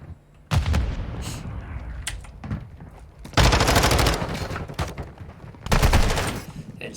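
Heavy bursts of automatic gunfire from a Call of Duty: Modern Warfare II esports match, loud and close, coming in three dense volleys separated by quieter stretches of scattered shots and game noise.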